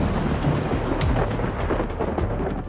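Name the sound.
thunderstorm with rain and thunder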